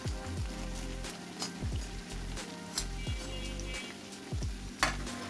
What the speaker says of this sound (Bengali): আস্তে আস্তে করে ভেজে নিচ্ছি